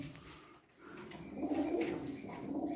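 Soft, low cooing from pigeons in Darıca, Turkey, a steady murmuring hum that swells slightly and continues throughout, fairly close with faint background rustle.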